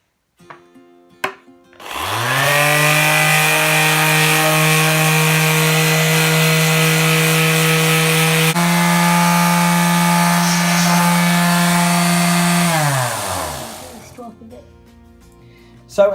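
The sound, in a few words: sanding the finish off a guitar body with 40 grit sandpaper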